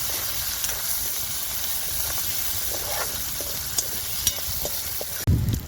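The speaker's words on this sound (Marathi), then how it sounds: "आता कांदा मी लाल तर परतून घेणार आहे" Chopped onion frying in a pan over a wood-fired stove, a steady loud sizzling hiss with occasional stirring scrapes and a sudden louder burst of frying at the end.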